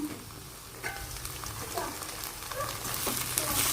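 An egg fries in a pan with vegetables pushed to one side, a soft continuous sizzle with light stirring scrapes, slightly louder toward the end.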